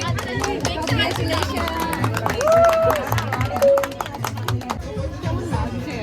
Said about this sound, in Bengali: এবার কি হাততালি দেবো?